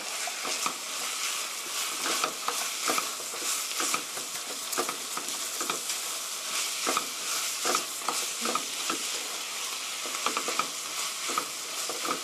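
Green pepper stir-fried with chicken for spaghetti, steady close sizzling and frying with repeated scraping stirs of a spatula in the pan, no voices.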